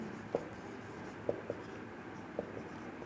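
Handwriting on a board or paper during a physics lesson on linear momentum and torque, with a few soft scratching strokes and sharp taps against a quiet room hiss.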